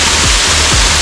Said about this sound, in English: it feels like it's raining here, standing around the waterfall